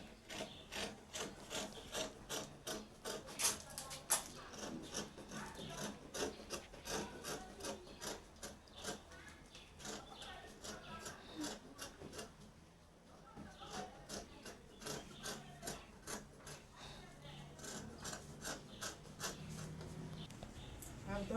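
Scissors snipping through fabric while trimming the armhole and neckline of a simple straight gown, a steady run of close, crisp cuts and rubbing strokes with a brief pause midway.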